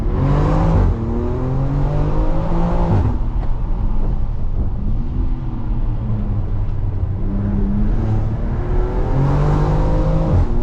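A 640hp BMW X3 M Competition's engine revs hard while drifting, loud and close, rising and falling through several sustained pulls with brief dips between them.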